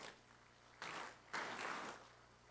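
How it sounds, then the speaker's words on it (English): Summit audience applauding the chairman of Flour Mills Nigeria at the Nasarawa Investment Summit, a faint, distant wash of clapping that swells in two waves and then tapers off. "such a very warm speech from the chairman of Flour Mills Nigeria deserves a rousing round of applause"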